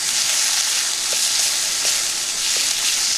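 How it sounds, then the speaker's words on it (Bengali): Masala with a little cumin paste fries steadily in a pan, a broad continuous sizzle with occasional faint stirring scrapes and no talk. "মশলাটা ভালো করে ভেজে নেব।"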